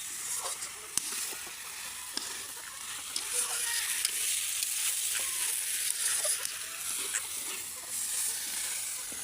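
Chicken feet and wings sauté with potatoes and whole garlic cloves in a pan, a steady bright sizzle with occasional stirring scrapes running throughout, fairly close and even, with no speech over it.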